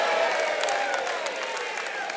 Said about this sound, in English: That's a derisive cheer from the Stateliner fans to our right